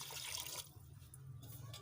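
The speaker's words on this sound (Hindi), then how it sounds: "अब इसमें हम पानी डालेंगे" Water poured from a big cup into a pot of aloo keema, a soft splashing pour that fades after a moment and leaves a quieter trickle.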